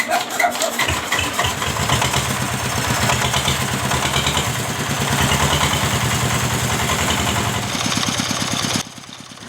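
A single-cylinder diesel engine, a Dongfeng S1115 with oil coming out of the exhaust, cranks briefly, then catches and settles into a steady, clattering idle that runs on loudly before cutting off near the end.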